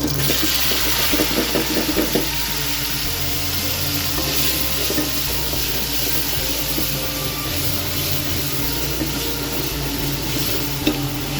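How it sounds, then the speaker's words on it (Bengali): Chopped tomato, onion and green chili hitting hot oil in a pan give a continuous, loud, even sizzle with a watery hiss, close by and with no voices. "দিয়ে দিলাম তেল, তেল গরম হচ্ছে, দিয়ে দিব টমাটো কুচি, পেঁয়াজ কুচি, কাঁচামরিচ"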